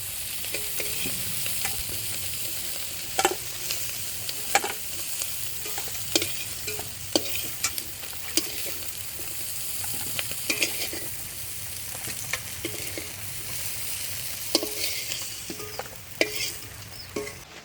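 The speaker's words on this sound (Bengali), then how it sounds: "চিংড়ি মাছ কাঁকড়া ভাজা হয়ে গেছে তুলে নেবো" Shrimp and crab fry in a pan with a soft continuous sizzle, punctuated by sharp clinks and scrapes of a utensil stirring at irregular intervals, close by and without voices.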